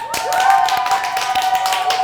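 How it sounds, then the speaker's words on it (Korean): Clapping from a few people in a Korean talk show studio, quick, close claps under a sustained electronic tone, with lively talk over it. "박수로 시작해 볼까요?"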